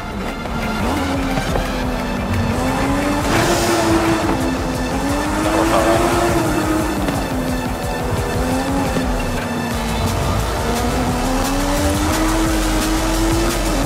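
A race car in Forza Horizon 5 roars through a street race in Guanajuato, its engine rising and falling through gear changes with tire squeal, loud and continuous with no talk.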